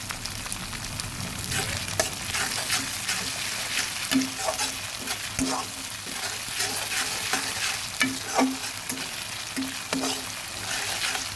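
Ginger and spices sizzle and crackle in hot oil while a utensil stirs and scrapes the pan in repeated strokes; close and steady, no voices.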